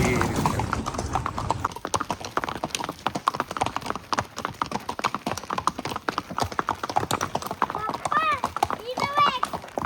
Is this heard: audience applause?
no